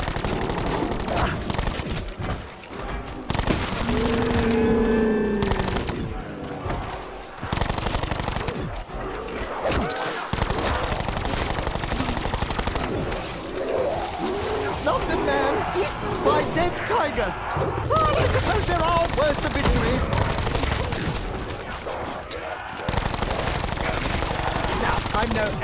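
Rapid automatic gunfire from a machine gun in Call of Duty: Black Ops 4 rattles in dense bursts through most of the stretch, with someone talking over it.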